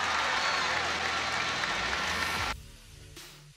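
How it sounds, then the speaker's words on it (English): Badminton arena crowd applauding and cheering in a dense roar that holds for a couple of seconds, then cuts off abruptly into a quieter room. "The crowd absolutely goes mad."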